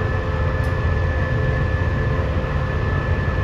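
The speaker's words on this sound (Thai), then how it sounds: "ออกตัวเร่งเครื่องคำรามมาเลย" A diesel passenger train on the eastern line pulls out of Bangkok's Hua Lamphong station, its engine giving a continuous heavy low roar and rumble as it accelerates, close and steady throughout.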